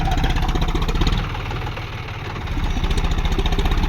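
A tractor engine idles nearby with a fast, even low throb. The pulsing runs throughout, easing slightly for a moment before returning to full strength, with no voices.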